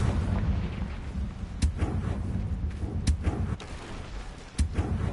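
Confringo fire spell blasts in the video game Hogwarts Legacy, a few sharp bursts cracking out over a rumbling low combat backdrop, fairly subdued overall.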